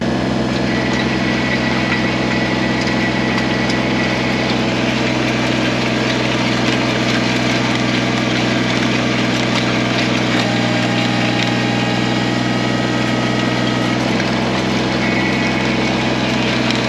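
A tractor with an auger attached runs its engine at a steady idle, producing a loud, continuous drone that barely changes throughout, with no speech.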